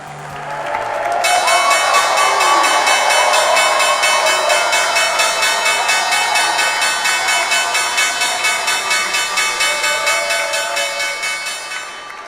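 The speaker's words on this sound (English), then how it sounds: "That's the sound of the New York Stock Exchange bell marking the debut of a newly listed company." New York Stock Exchange bell ringing to mark a newly listed company's debut, a continuous loud metallic ringing that rises after a second and persists over crowd applause and cheering, with rapid repeated strikes pulsing through to the end.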